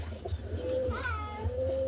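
Three female pigeons cooing softly nearby, a couple of low, drawn-out coos over a faint background murmur.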